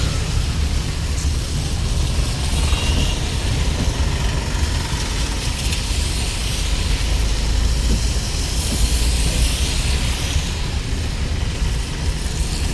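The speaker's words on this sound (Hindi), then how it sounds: "खूब बारिश लगी भाई" Heavy rain drums on a driving-school car, heard from inside the cabin as a loud, unbroken wash over a low engine hum. Nobody speaks.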